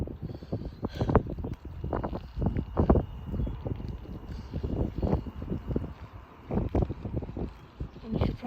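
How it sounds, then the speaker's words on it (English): Strong gusty wind ahead of a severe thunderstorm buffets the microphone in repeated rough bursts, a steady roar rising and falling with no clear voices. "I see that it's really windy."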